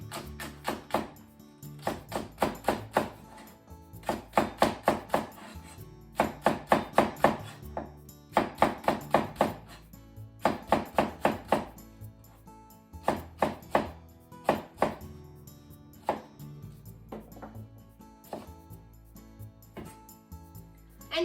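A knife cuts a Japanese leek into thin diagonal slices on a cutting board, producing quick bursts of rhythmic chopping taps in groups with short pauses between, close and crisp.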